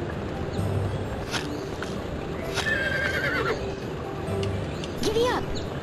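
Horse whinnies and clip-clopping hooves in the Barbie Horse Adventures video game, a couple of neighs over steady hoof steps, with a person talking over the game sounds.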